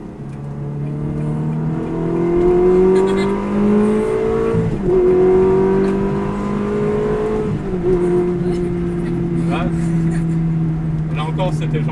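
A Ferrari sports car accelerates on a road, its engine climbing in pitch through the gears with brief drops at the shifts, loud and steady from inside the cabin while someone talks over it.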